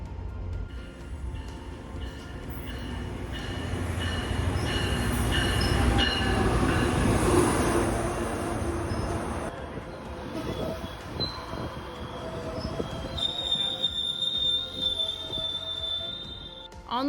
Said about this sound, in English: especially every time the train switched tracks or if it would rumble